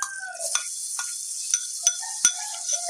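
Steady sizzling of ginger and onion sauteing in a pan, with a few clinks and scrapes of a utensil stirring at intervals.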